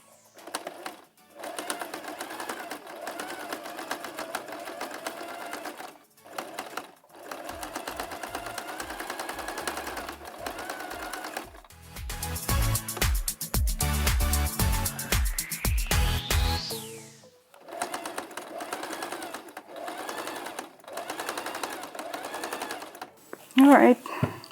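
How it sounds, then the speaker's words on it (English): A sewing machine runs in a steady mechanical whir while stitching folded fabric to close the opening of a cloth face mask, in one sustained burst with quieter handling and talk before and after. "we sew along this to close off the opening"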